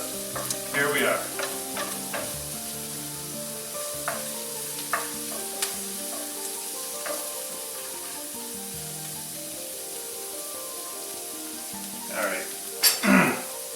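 Onions sauté in a pan with a steady soft sizzle, broken by a few scraping stirs and clattering utensil bursts near the start and end.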